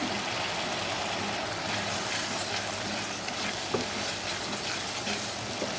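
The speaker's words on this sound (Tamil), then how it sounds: "ஸோ நம்ம இப்போ இதில் கொஞ்சமாக கீ ஆட் பண்ணிக்க போகிறோம்." Grated carrot halwa fries in ghee in a pan, a steady, fairly quiet crackling sizzle with faint stirring clinks and no talking.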